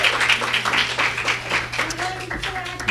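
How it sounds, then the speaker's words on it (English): Warm audience applause greets a village mayor at a women's resource forum, with brisk continuous clapping from a crowd, a low steady hum beneath, and a voice breaking in near the end. "So, please give a warm round of applause to Mayor Riley H. Rogers"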